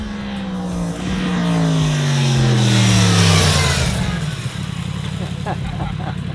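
A Ducati Panigale V4 Lamborghini motorcycle on a race track passes loudly, its engine note sweeping downward as it goes by and fades, followed by lingering rumble; a person talks over it.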